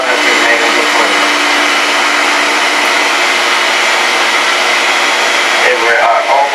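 A countertop blender whirs loudly and steadily while it mixes a thick homemade toothpaste cream, a dense high-pitched motor drone that runs throughout with a slight change near the end.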